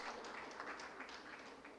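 Applause from an audience at a Doctor's Day celebration at a medical association hall, honouring a surgeon: a continuous, even wash of many hands clapping, steady and moderately distant throughout, with no voices over it.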